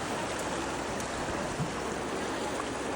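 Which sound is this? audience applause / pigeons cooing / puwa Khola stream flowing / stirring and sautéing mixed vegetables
puwa Khola stream flowing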